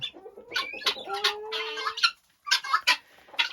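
Chickens and guinea fowl crowded in an unheated, uninsulated winter coop give a run of close clucks and sharper calls, busy at first, then a brief silence before more squawks resume.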